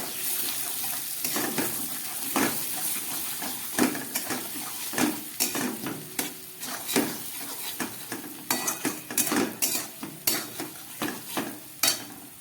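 Potatoes and spices being sautéed on low gas for an egg curry, soft continuous frying hiss with frequent scraping clinks of a spatula against the pan, getting busier toward the end, no voices.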